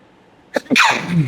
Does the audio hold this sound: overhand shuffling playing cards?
no